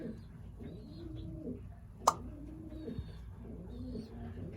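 Soft, repeated racing pigeon coos murmur at close range, with a single sharp click or tap partway through.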